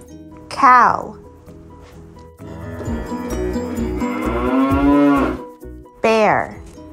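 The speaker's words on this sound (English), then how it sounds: "Cow." A cow moos loudly and close by in one long drawn-out call, with shorter bellows just before and after it and no other sound.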